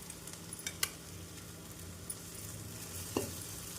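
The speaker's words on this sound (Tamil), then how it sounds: "நம் வெண்டைக்காய் சேர்த்து மசாலாவுடன் நன்றாக மிக்ஸ் செய்ய வேண்டும்" Okra sautés in a pan with an onion and tomato masala for a dhaba-style gravy, giving a quiet, steady sizzle broken by a few light scrapes and taps from the stirring spoon.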